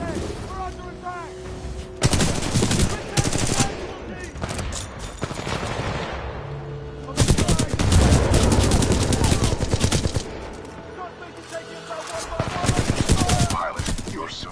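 Heavy gunfire in a Titanfall battle, with long stretches of rapid automatic bursts and loud impacts that swell and recede, mixed with game voices calling out over the combat.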